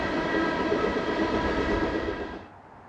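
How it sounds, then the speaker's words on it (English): Three CSX ES44AH heavy-variant locomotives haul a northbound train of empty oil tank cars, a loud, steady rumble and clatter of wheels and cars close by that fades at the end. "It is yet more empty oil tanks, this time hauled by a trio of CSX ES44AH heavy variants"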